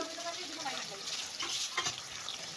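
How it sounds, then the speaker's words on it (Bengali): Tomatoes go into meat frying in a pan, bringing a steady close sizzle with stirring scrapes and soft clatter throughout. "টমেটোগুলো দিয়ে দিচ্ছি"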